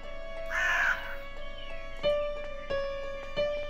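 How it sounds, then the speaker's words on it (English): Crows caw in the Midnight Scenes The Nanny video game: one harsh, drawn-out call, then three shorter caws evenly spaced, over a steady tonal ambient hum. "There's a lot of crows down."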